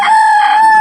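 A rooster crows loudly and close in a village yard, one sustained drawn-out call with a bright, strained tone filling the short moment.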